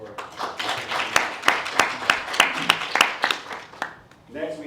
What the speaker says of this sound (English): So give a round of applause for it.